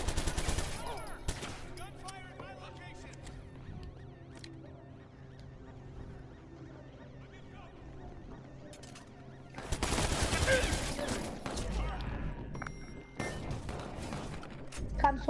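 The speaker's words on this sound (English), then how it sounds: "Gunfire" Bursts of rapid gunfire in the video game Watch Dogs crackle in rapid volleys, with quieter stretches between and a heavy barrage near the end.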